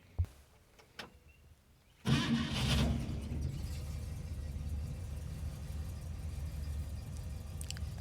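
A 1964 AMC Rambler Classic engine starts: a few faint clicks, then the motor catches abruptly and settles into a steady, close idle rumble.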